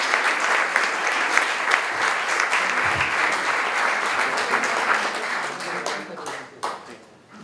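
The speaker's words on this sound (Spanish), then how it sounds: "Fuerte el aplauso." An audience at an inauguration of an experimental cultural space claps loudly and steadily, then the applause tapers off and fades near the end.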